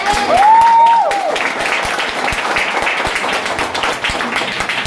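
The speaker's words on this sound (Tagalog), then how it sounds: "Sa Panginoon, ang palakpak dapat malakas" Church congregation applauding a visiting bishop during a Filipino worship service, a steady wash of clapping with a brief whistle or cheer near the start, continuing evenly throughout.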